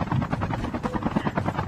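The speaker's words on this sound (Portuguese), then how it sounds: "são dois helicópteros." A helicopter in a video game, one of two present, gives off a loud, steady rotor chop with a rapid even pulse. The chop sits close and dominates throughout.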